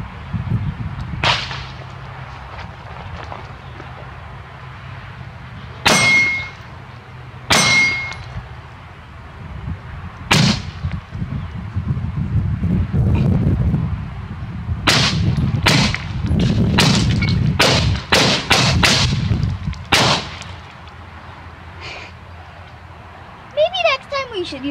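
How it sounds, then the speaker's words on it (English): An AR rifle fires rounds at a steel target outdoors, each loud sharp crack followed by a ringing clang, first spaced apart and then in a quicker run of shots, with people talking between them. "first I'm going to shoot a couple rounds on the steel"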